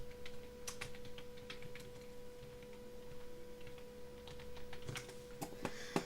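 Computer keyboard typed on in short bursts of light, close key clicks, with a steady electronic hum underneath and no talking.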